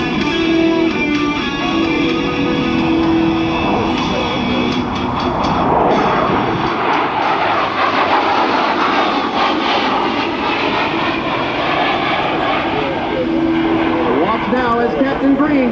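An A-10 Thunderbolt II Warthog jet performing an airshow demonstration, its loud turbofan roar sustained and shifting in pitch as it passes, with an announcer speaking over the public address.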